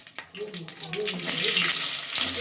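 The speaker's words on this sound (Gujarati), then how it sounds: "આપણે રાઈ નાખી દીધી છે કારણ કે તેલ ગરમ થઈ ગયું છે" Mustard seeds crackle and sizzle in hot oil for Gujarati batata poha, a bright hiss that swells and holds steady after a brief start, with a faint voice humming underneath.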